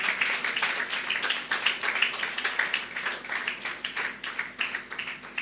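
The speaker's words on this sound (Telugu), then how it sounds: "గట్టిగా చప్పట్లు కొట్టి దేనిమై పరుద్దామా?" A church congregation claps loudly together during a Pentecost Sunday worship service, a steady, dense patter of many hands that keeps going with slight swells in intensity.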